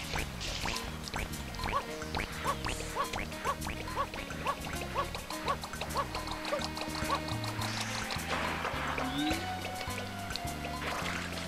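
In the video game Super Mario Sunshine, Mario's water tank refills with bubbly gurgling and pouring effects, repeated in quick rhythmic bursts over background game music, with occasional quacking game creature sounds.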